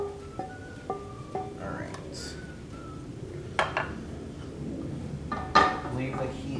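Fried eggs lifted off a frying pan during Spam fried rice cooking, with a few light metallic clinks and scrapes of a utensil against the pan over a soft kitchen background.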